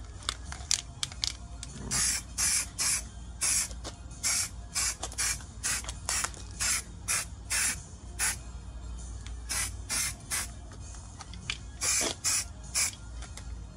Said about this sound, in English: I'm just going to go ahead and spray paint it right now